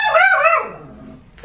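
A dog gives one loud, close, drawn-out bark that slides into a whine and fades away.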